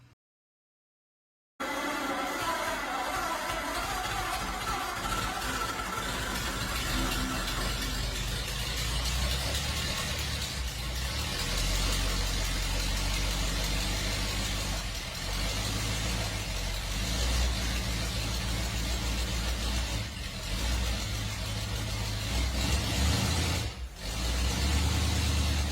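A refreshed 1940 CMP F8 truck engine, converted to a 24-volt system with 12-volt electronic ignition, cranks and catches, then settles into a steady, loud, close idle that runs for over twenty seconds without talk.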